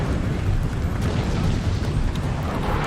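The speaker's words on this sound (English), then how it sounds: "A mortar shell landing perfectly right in there into this line infantry, taking out a very good amount of troops" A mortar shell bursts among line infantry on an Empire: Total War battlefield, heard as a sustained low rumbling roar of blasts and debris that fills the whole stretch at steady loudness, with no voices.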